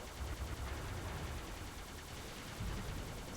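Halo 3 Ghost vehicle weapon fire held down continuously, a fast steady stream of crackling shots over a low rumble, close and unbroken for several seconds, with no speech.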